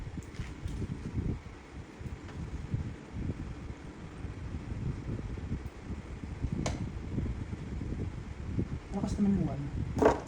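A Midea 7-inch mechanical air circulator fan spins with a low airy whoosh and buffeting rumble, fairly close, running under a person talking, with a few light clicks and handling sounds.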